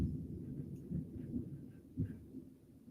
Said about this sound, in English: that was like some rolling thunder